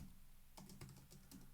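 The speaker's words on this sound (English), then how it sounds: "I'm typing in words that begin with Z." Rapid clicking of keys on a computer keyboard, typed in quick irregular bursts close by and fairly quiet, with no voices over it.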